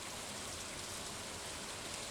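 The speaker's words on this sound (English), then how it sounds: "The sound of rain upon the roof is so restful, don't you think?" Dense, steady patter of rain falling on a roof in the Stardew Valley Expanded farming game, an even soft wash of drops throughout with no voices.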